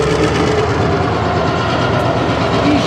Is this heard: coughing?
no